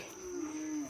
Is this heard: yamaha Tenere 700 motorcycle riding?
no